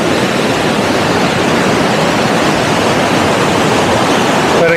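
A turbulent mountain river rushes under an old footbridge: a loud, steady, close roar of churning water that fills every moment without a break.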